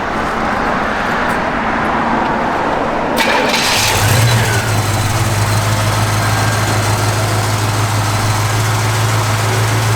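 A 1967 Chevrolet Malibu cranks over and catches, then settles into a steady, low, rumbling idle that holds close and even for the rest of the stretch, with no talking.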